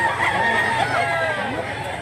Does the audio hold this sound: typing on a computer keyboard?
no